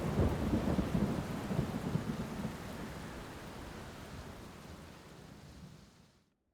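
Heavy thunderstorm rain pours steadily under a deep, rolling thunder rumble that is strongest at first, then gradually eases and fades out near the end.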